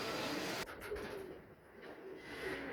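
Golden pigeons kept by a bird dealer in Faisalabad give faint, low coos over a breathy background hiss, with no talking.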